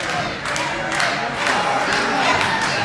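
A wrestling crowd at an IWC event roars continuously and loudly throughout, a dense wall of cheering with rhythmic chanting pulses rising and falling, while a commentator's voice sits underneath.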